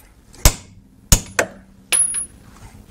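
A hammer strikes a motorcycle wheel in a few sharp metallic blows, two spaced single hits followed by a quicker pair, close and ringing, with no talk.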